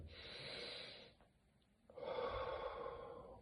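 A slow, deep breath drawn in through the nose, a pause while it is held, then a long, steady exhale, heard close and quiet with no talking.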